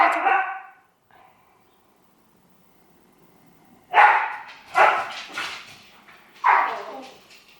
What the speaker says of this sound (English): I'm being silenced by my own dogs